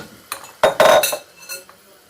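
Spoon clinking and scraping in a pot while fried almonds, cashews and pistachios are stirred into Hyderabadi gulati, a few sharp metallic clinks and rattles close by over about two seconds, with no talk.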